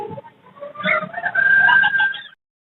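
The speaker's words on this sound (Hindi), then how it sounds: "ये सिंधी असील मुर्गा बहुत अच्छे साइज में, बहुत ही इंपोर्टेंट ब्लड लाइन में है।" A Sindhi Aseel rooster crows once at a bird market, starting with rough rising notes and then holding a loud, strained note for about a second before it stops abruptly.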